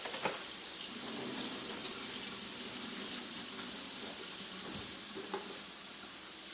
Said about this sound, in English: put them in a little bit of cool water and then use this same exact lid to rinse off the excess starch